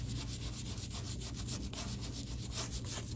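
Steady back-and-forth rubbing of sandpaper on wooden furniture legs, close and continuous with a regular stroking rhythm and no voices.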